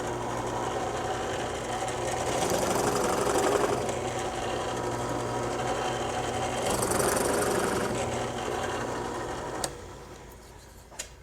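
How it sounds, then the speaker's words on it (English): A drilled hole in a wooden toy piece is chamfered with a power tool, producing a steady motorized whirring that swells louder twice, then tapers off with a couple of light knocks at the end. "we're going to chamfer that hole"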